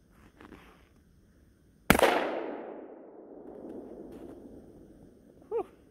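A shotgun fires buckshot at a target on an outdoor range: one sharp, loud crack follows a quiet moment, then a long rolling echo decays, and a short faint sound comes near the end.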